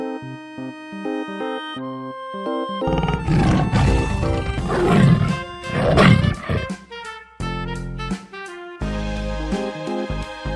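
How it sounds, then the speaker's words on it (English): A tiger roars loudly over a music background, with a couple of long rough roars in the middle of the clip. "Tiger."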